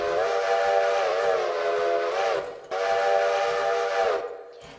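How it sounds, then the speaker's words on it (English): A steam locomotive whistle in the Lost Freight Railroad video game blows two long, loud chime blasts, each sustained for about two seconds before tapering off. "That's the whistle."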